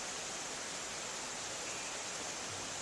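Yongchu Falls in the Mureung Valley of Dutasan pours steadily, a dense, even rush of falling water heard alone at constant loudness.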